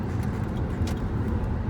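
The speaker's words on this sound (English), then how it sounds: "That truck's coming over." A truck rumbles past close by with a low, steady road drone, without anyone talking.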